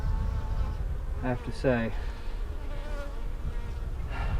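Honey bees buzz around a hive and the queen's cage as a faint, continuous drone, while a person speaks briefly close by.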